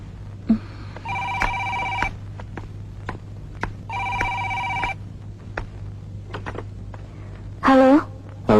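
A telephone rings in two long electronic bursts separated by a pause, clear and fairly close, with small clicks and a brief voice-like sound near the end.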